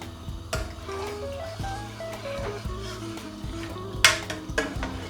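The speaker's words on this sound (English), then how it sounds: "I'm just going to give that a mix now." A spoon scrapes and clinks against a pot while masoor dal with turmeric and salt is stirred, producing irregular soft knocks and one sharper metallic clank near the end, fairly quiet and without talk.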